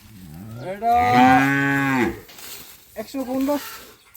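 A beef cow at a cattle market nearby gives one long, loud moo, followed by a short bit of human talk.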